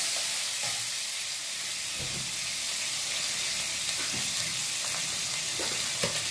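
Cumin seeds, dried red chillies and bay leaves crackle in hot mustard oil, a continuous sizzling hiss broken by a few soft stirring knocks, close and steady without speech.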